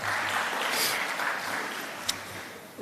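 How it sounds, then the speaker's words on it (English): A final round of audience applause at a UNDP energy conference session, continuous moderate clapping throughout, ending with a louder burst. "Final round of applause, everyone."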